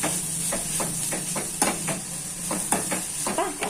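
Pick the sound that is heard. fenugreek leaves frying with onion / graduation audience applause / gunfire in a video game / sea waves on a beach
fenugreek leaves frying with onion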